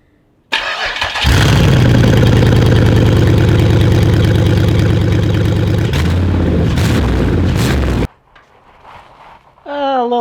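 An LS V8 swapped into a Toyota Celica GT-SS cranks and fires up for the first time, then runs with a loud, rough, throbbing idle through a steel-wool-stuffed tailpipe before shutting off, followed by faint background sounds and a brief voice.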